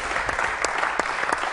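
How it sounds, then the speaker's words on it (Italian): Audience applause during an Italian interview with a virtual-assistant digital clone: a dense, steady burst of many hands clapping, fairly close and loud, with no speech over it. "Grazie Marco, applausone."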